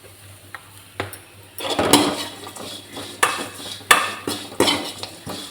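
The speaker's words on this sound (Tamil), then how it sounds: "தேங்காய் போட்டு வதக்கிட்டு இருக்கிறேன்." A metal spoon scrapes and clatters against a pan in irregular bursts, sautéing grated coconut, loud and close with no talking.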